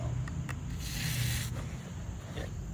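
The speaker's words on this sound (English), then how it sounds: "brake cleaner. Just keep spraying that thing." Brake cleaner sprayed in a steady hissing burst into a seized Harbor Freight floor jack being repaired, a broad aerosol rush peaking mid-clip against low background rumble, with no talking.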